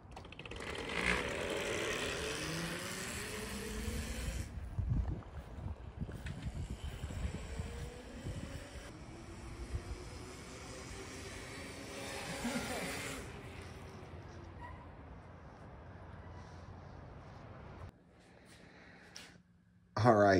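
A homemade e-bike powered by a 72-volt drill battery pack runs at its lowest speed setting, its motor giving off a steady mechanical whir with rising and falling tonal whine and some rattling, then tapering off near the end.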